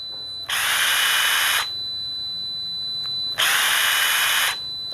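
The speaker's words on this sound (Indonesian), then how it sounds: "Ini mode mengencangkan. Jadi meskipun triggernya ini belum saya lepas, ini sudah berhenti, kemudian ada suara ting gitu." Makita DTWA190 cordless impact wrench running in tightening mode, two loud close bursts of whirring lasting about a second each, with a steady faint high tone between them.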